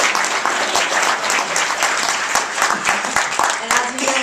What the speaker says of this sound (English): give you a round of applause for this